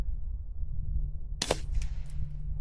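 One sharp, fairly quiet snap from a suppressed .22 LR rifle firing subsonic rounds outdoors is followed by a short thump as the bullet hits dirt, then a soft rattle, with no talking.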